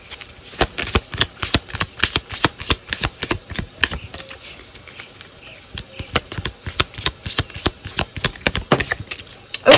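Rapid papery riffling of little affirmation cards being shuffled by hand, close up, in repeated quick bursts throughout, with no talking.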